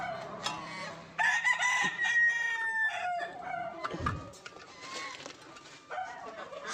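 Free-range village chickens in a dirty coop where hens have started laying eggs make repeated clucks and a drawn-out rooster crow, close by and fairly loud, with no talking.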